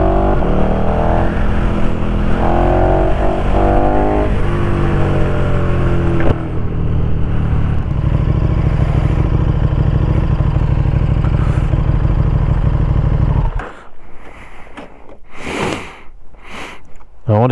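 A 2020 KTM 1290 Super Duke R fitted with an Austin Racing V3 Mini 200mm exhaust revs loudly and close by, its engine note rising and falling, then cuts away to quieter surroundings.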